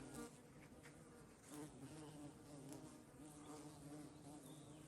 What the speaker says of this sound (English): You can probably hear them, you can't really see them. But there's big black bumblebees.